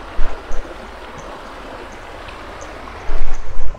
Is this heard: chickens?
no